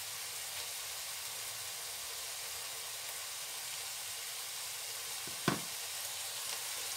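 Curry masala and black pepper fry in a pan for a keema sauce, giving a steady, faint sizzle with one sharp utensil clink near the end.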